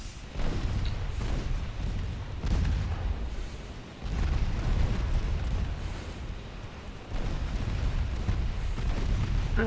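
Heavy naval 6-inch guns firing in a warship battle game, each deep booming salvo rolling out at intervals of about one to two seconds over a continuous low rumble, loud and close with no voices.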